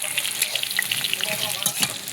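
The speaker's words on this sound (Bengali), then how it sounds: "পেঁয়াজটা ভালো করে ভেজে নিই।" Onions sizzle and crackle in hot oil in a wok, a continuous bright frying hiss with sharp pops and some stirring scrapes, close and steady.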